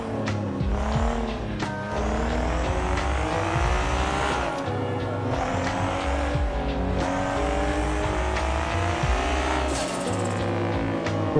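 Game car from GTA V racing along with a revving engine and repeated tire squeals and skids, loud and continuous with rising and falling engine pitch.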